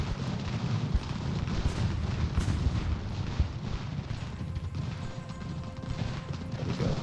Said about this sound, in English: Artillery is there helping.